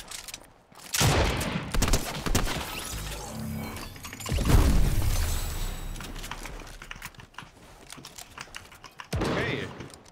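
Bursts of rapid gunfire from a squad battle-royale video game match, sharp clustered shots on and off across the clip, loud and close, with a few quieter gaps between volleys.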